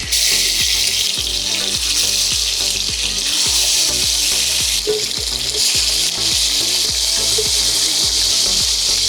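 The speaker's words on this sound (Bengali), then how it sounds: "চলুন এবার তাহলে আমরা মাছটাকে ভেজে নিই।" Pieces of katla fish fry in hot oil with a loud, dense sizzle and crackle, overlaid by a fast run of regular low ticks and bubbling pops, steady and close throughout with no voices.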